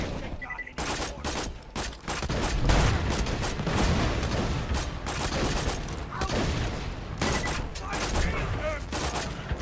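Rapid gunfire from the Sandhawk in Borderlands, a dense fusillade of many projectiles crackling in quick bursts, loud and close, with brief pauses between volleys.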